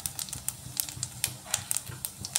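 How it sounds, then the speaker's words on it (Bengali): Cumin seeds dropped into hot refined oil for a lentil and spinach tempering, giving quiet scattered crackles and sharp little pops in quick irregular bursts, fairly faint and close, with no talking. "তেল গরম হয়ে গেছে, এবার দিচ্ছি"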